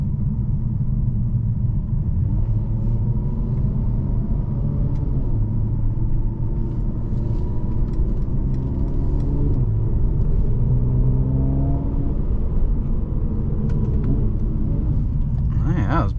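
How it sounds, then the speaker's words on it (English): A 2018 Mercedes-Benz C43 AMG on the road, its engine a steady low rumble from inside the cabin with rising tones as it accelerates through gears, under a driver talking. "quick virtual test drive of a 2018 Mercedes-Benz C43 AMG"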